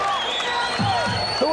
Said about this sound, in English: And the crowd's going crazy.